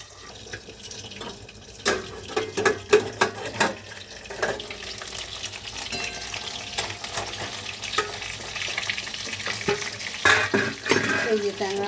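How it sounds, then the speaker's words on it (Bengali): Tangra fish frying in hot oil in a kadai, a continuous sizzle broken by sharp spits, crackles and clattering scrapes, moderately loud throughout. "কড়াইতে ট্যাংরা মাছগুলো দিয়ে দিয়েছি, তেলটা গরম হয়ে গেছে।"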